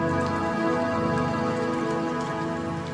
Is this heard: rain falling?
yes